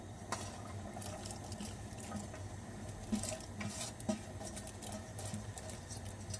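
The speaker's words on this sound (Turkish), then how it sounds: "Kaynayan suya 4 adet pazının sapını, doğranmış sapını atıyorum." Water boils, rushing and bubbling steadily, with a few soft splashes and knocks as chopped chard stalks drop in.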